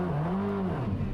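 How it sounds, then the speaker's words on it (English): Koenigsegg Jesko engine revving, a steady deep mechanical drone whose pitch rises and then dips across a brief moment, with no voices. "So, Amir, if you wouldn't mind just revving up your Jesko."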